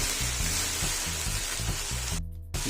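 Tomato and onion paste sizzles steadily in hot oil in a pan while cooking for Punjabi rajma, a continuous close frying hiss with a brief quiet dip near the end.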